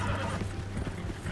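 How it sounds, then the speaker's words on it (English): Horses in Red Dead Redemption 2 neigh and whinny while hooves clop, close and continuous, over a low rumbling ambient background with no talking. "Oh, horses."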